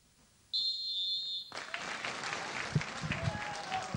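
Football crowd applause for a late former club president at a Vigor Castelfidardo–Osimana match, distant and faint, following a steady high whistle tone, under a commentator's voice.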